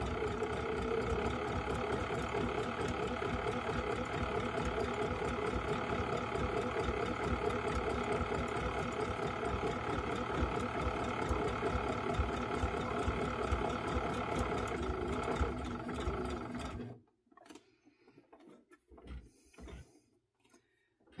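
A sewing machine runs steadily, stitching down the appliqué wings of a fabric dragonfly on a quilt, its dense mechanical whir continuous for about seventeen seconds before stopping abruptly into near silence with faint handling sounds.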